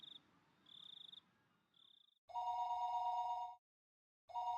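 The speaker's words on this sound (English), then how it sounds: "That phone is always such a weird sound because it's so unexpected." An old-style telephone rings in the Higurashi video game, giving two long, loud electronic trills separated by a pause, while quiet insect chirps buzz in short bursts beforehand.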